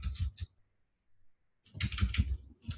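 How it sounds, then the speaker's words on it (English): Keys clatter on a computer keyboard in two quick bursts separated by a short pause, close and fairly quiet. "I'm going to type in architecture"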